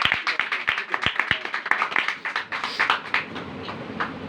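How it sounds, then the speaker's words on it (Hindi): Congregation at a Hindi-language Christian worship service claps for Jesus Christ in a burst of sharp, uneven hand claps at close range. The clapping thins into scattered claps and fades toward the end. "यीशु मसीह के लिए एक बार जोरदार तालियां।"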